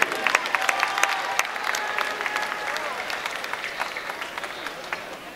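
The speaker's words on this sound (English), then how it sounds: "how about a round of applause for our officials for this evening" A crowd in a gym at a high school boys basketball game applauds the evening's officials, a sustained wash of clapping with a few cheers that slowly tapers off.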